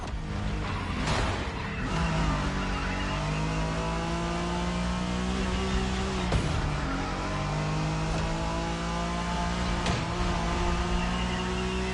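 A car engine drones through a Japanese street race in The Crew Motorfest, held at high revs with rising and falling pitch as gears shift, loud and continuous with brief bumps of tire and road noise.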